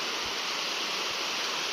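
River water near a Hiroshima nature walk rushes in a dense, steady hiss, constant and moderately close, with no voices over it.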